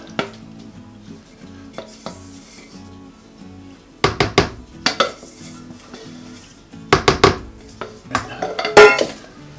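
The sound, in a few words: mixing liquid mixture into flour in a bowl for banana bread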